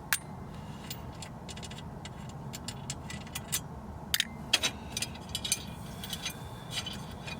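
A ratchet works loose 10mm bolts from a steel plate on a Nissan Rogue during blower motor replacement, giving quick, irregular metallic clicking in short bursts, close and fairly faint, with occasional louder clacks.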